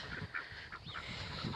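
Geese being moved to a new pasture honk in repeated short calls, several birds overlapping at a moderate distance over a steady outdoor background, with no talking.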